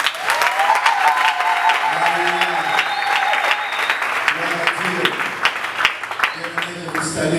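A church congregation at a Sunday service applauds and cheers for the Lord, a sustained wash of clapping filling the room while a voice speaks over it.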